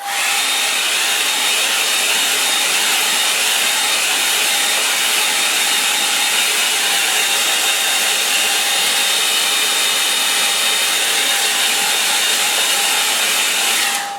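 A hair dryer runs steadily at close range for the whole stretch, a loud even whooshing hum while drying a watercolour painting of a moorland scene, with no talking.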